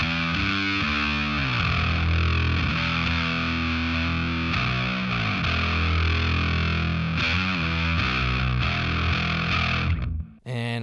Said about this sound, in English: We have a triangle muff fuzz right here.